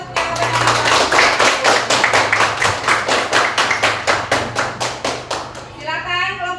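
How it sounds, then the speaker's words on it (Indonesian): A classroom of schoolchildren claps in a steady, rhythmic unison beat for a group's answer, the sharp, even claps close and loud for several seconds before fading out. "Beri tepuk tangan untuk jawaban kelompok"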